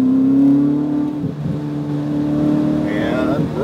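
Ferrari 488 GTB engine revving under throttle on a track, a loud steady harmonic drone that dips briefly then climbs in pitch toward the end, with a voice talking over it.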